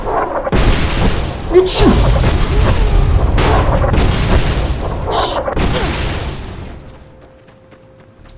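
A grenade goes off in Fallout: New Vegas as a loud, close boom with rolling, rumbling blasts that sustain and then fade over several seconds, while a player shouts and curses over it.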